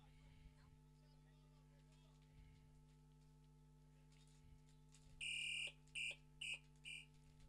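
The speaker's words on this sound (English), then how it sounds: "As the halftime buzzer sounds" A loud electronic halftime buzzer at a Thailand vs Afghanistan men's rugby match sounds in several bursts, one long blast followed by three shorter ones, over a low hum and faint background commentary.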